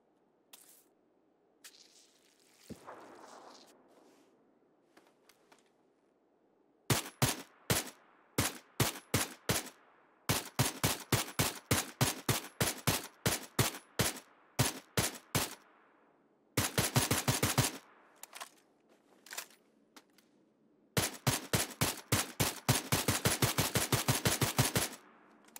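Gun firing in PUBG, with loud, sharp shots in rhythmic bursts, single taps at first and then long rapid strings of automatic fire, separated by brief quiet gaps.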